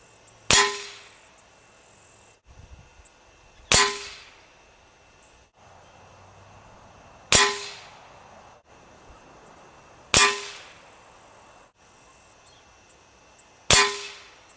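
Crosman Quest 1000 air rifle, five separate sharp cracks spaced a few seconds apart in an even rhythm, each followed by a short decay, loud and close with no talking.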